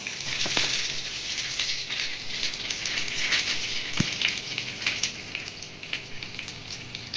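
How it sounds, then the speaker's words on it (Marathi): Chopped garlic sizzles in two spoonfuls of hot oil in a pan while cooking a spicy potato, tomato and onion bharit, a steady close crackling hiss with fine popping throughout. "तेल तापलेलं आहे आपण यात लसूण घालूया"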